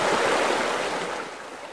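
A narrow stream flowing downhill toward a river floodplain, a loud continuous rushing of water close by, with no talk.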